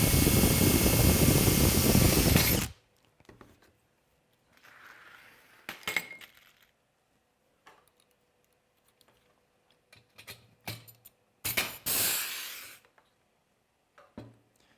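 Rivets are set into an aluminum-style robot arm structure, with a loud burst at the start followed by sparse sharp clicks, snaps and a few short grinding bursts separated by quiet gaps.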